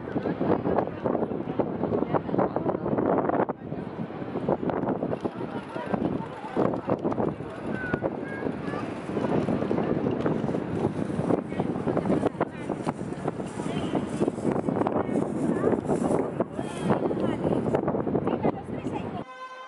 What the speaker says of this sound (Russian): Ветер прям невыносимый и холодный.